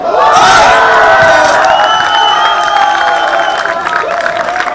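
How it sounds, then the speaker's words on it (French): Live crowd at a French rap battle clash event roaring with cheers, whoops and applause after a verse, loud and sustained throughout with shouting voices mixed in. "Applaudissez-les encore bien fort s'il vous plaît."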